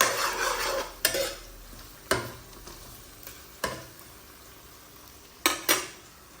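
Onions fry in a pan for Assamese-style duck curry, a continuous sizzle broken by several loud scraping stirs of a spatula against the metal at irregular intervals.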